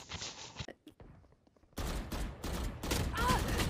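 Gunfire in the shooter game Valorant: a burst of rapid shots up front, a brief lull, then heavier overlapping bursts of fire and impacts, close and loud.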